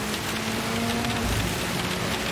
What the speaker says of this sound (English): this rain is absolutely torrential